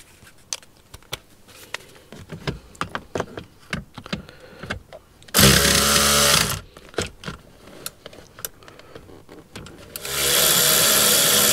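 A power tool loosens a screw on a 2015 Chevrolet Suburban LTZ. Scattered clicks and taps come first, then two loud sustained bursts of motor whir, the second running to the end.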